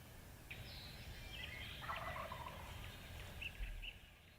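A distant wild turkey gobbles in a rapid rattling burst, faint across an open field under a steady hiss of morning ambience.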